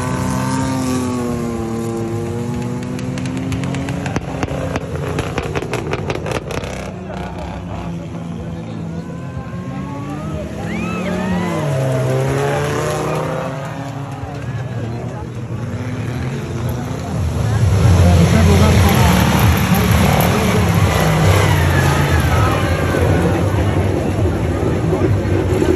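4x4 off-road vehicles race on a dirt track at a festival competition in Gualaquiza, engines revving and whining as they pass, rising into a louder roar near the end, with someone speaking over the sound throughout.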